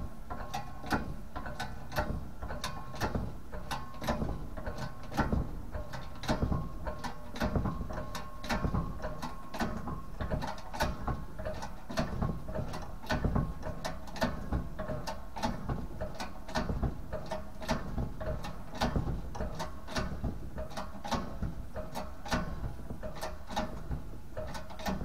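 Piston wrist pins pressed into pistons by hand, making a steady run of small mechanical clicks and ratcheting ticks, close and fairly quiet, with no talk.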